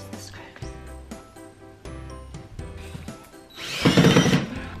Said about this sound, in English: We are going to screw the screws in first without the annoying arm in the way.